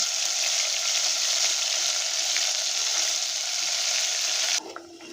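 Ground masala paste with mustard seeds and curry leaves fries in a pan with a dense, steady sizzle of hot oil. The sizzle cuts out abruptly near the end, leaving quieter kitchen sounds.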